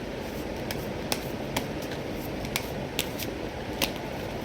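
A deck of tarot cards is shuffled by hand, a series of crisp, quick riffling clicks and flicks at irregular intervals, close and fairly faint over a low steady room hiss.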